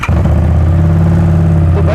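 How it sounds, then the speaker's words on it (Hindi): Harley-Davidson Street Rod 750 motorcycle with an aftermarket silencer firing up from cold, settling at once into a loud, close, steady low idle rumble with no revving. "कोल्ड स्टार्ट कर रहे हैं इस बाइक को।"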